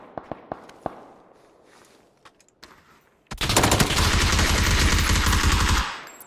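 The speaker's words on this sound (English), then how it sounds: "I shot him in the head a couple times" Sustained automatic gunfire in a PUBG battle royale match, a few scattered single shots first, then a loud, dense burst of rapid fire that runs for about three seconds before cutting off.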